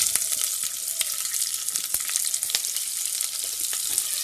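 Onions hit hot oil in a pan and fry with a steady, crackling sizzle dotted with sharp pops, close and continuous, with no talking.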